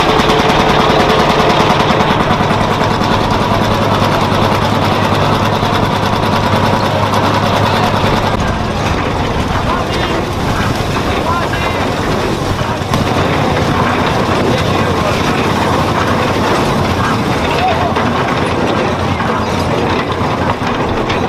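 A vintage 1935 machine running at a bread festival in Loreo: a loud, steady mechanical clatter with fast repetitive knocking throughout, changing tone slightly partway, with no voices.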